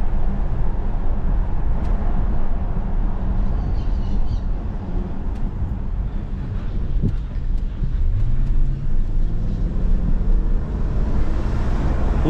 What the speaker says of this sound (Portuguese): Olha o ronco desse V8, coisa gostosa.